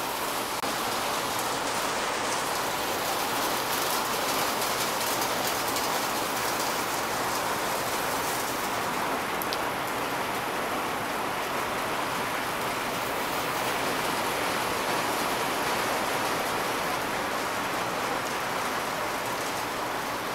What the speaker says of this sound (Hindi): और अभी बारिश हो रही है